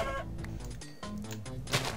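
Chickens cluck in the Minecraft video game as a few short, close, pitched clucks and squawks in quick succession over game sounds, with no voices.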